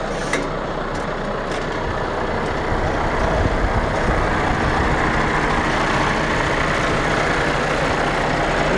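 A combine harvester's engine runs steadily through the wheat harvest, a loud, continuous broadband roar with a low rumble that carries on unbroken without a voice over it.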